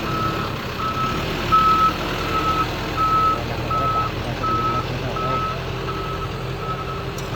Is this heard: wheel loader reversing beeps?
yes